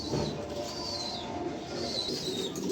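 Pigeons coo in soft, repeated low calls, close by, over a steady background hum with faint higher bird chirps.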